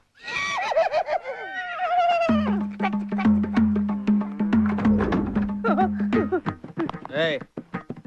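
A horse whinnies loudly near the start in a comedy film scene, its rising and falling call followed by a steady low drone, with people talking over the rest.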